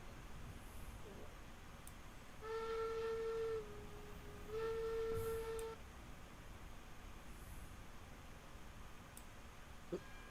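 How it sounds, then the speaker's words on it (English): Steam locomotive whistle in the railroad video game Railroads Online, sounding as two separate, fairly faint, steady tonal blasts about a second apart over quiet background noise. "That really sounds like a whistle at a workshop."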